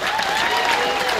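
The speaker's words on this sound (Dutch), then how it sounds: "Geef hem een waanzinnig applaus." A crowd at a festival gives a volunteer a burst of loud, dense applause with some cheering mixed in, close and continuous throughout.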